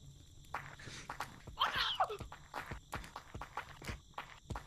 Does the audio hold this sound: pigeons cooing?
no